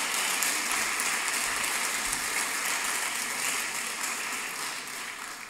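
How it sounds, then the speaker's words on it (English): Graduation ceremony audience applauding steadily, a dense wash of clapping that stays fairly even and slowly tapers near the end, with no talking over it. "Can I have a round of applause for Ginny being able to..."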